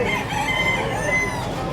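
A Brahma chicken crows and clucks at a pet and livestock market in Bocaue, a steady fowl call heard close and alone for under two seconds.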